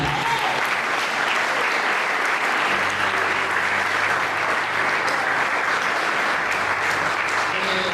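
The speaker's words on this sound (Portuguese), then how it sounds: "E as palmas são para Jesus." Church congregation bursts into sustained, loud applause, a dense even wash of clapping from a large crowd that holds steady throughout without letting up.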